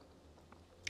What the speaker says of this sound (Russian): Извините, что чавкаю, но скромно кушать не получается.